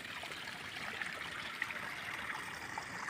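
A village stream flows steadily, its soft trickle and gurgle holding an even, continuous texture at low volume with no one talking.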